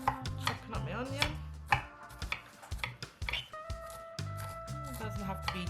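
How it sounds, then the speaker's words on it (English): A knife chops an onion on a cutting board in a home kitchen, a run of quick, close, crisp strikes in uneven bursts, with a voice talking between cuts. "Okay, chopping up my onion."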